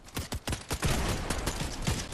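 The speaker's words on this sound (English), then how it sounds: "of course I missed like the easiest shotgun shot ever" Rapid gunfire bursts from the video game Fortnite, a dense run of loud, sharp shots close together with a shotgun blast among them.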